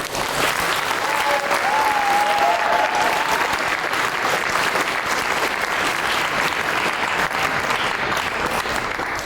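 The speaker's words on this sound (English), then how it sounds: "let's give a big round of applause to everybody" A crowd applauds presenters at university human-computer interaction design final presentations, sustained even clapping across the whole stretch, loud and full, with a faint whistle-like tone briefly riding on top early on.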